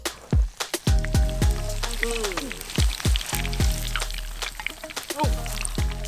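Perch fillets fry in a hot pan, a continuous sizzle broken by sharp crackling pops and spatters, close and fairly loud, with people talking over it.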